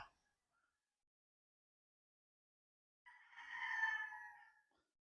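A sweater bullstag gamecock lets out a single drawn-out crow lasting over a second after a long near-silent pause, heard fairly faint and alone.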